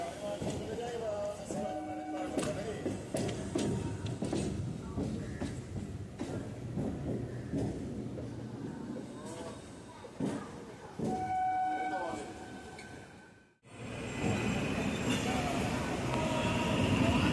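Shantiniketan Express pulling out on the Howrah-Tarakeswar line, its rumble and clatter loud and continuous, then a sudden brief drop before heavy roaring noise resumes, with no voices.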